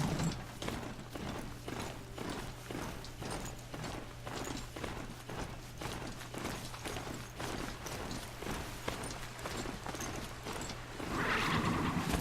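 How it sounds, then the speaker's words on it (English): Mounted horse in Horizon Zero Dawn, its hooves clip-clopping in a steady, even rhythm throughout, moderately loud over a low constant drone of game ambience, with no talking. "Come here, Steed. He's a Mr. Horsey."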